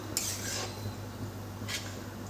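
A utensil scrapes and rubs against a pan of milk-based halwa in two short bursts over a low steady hum, fairly quiet and close.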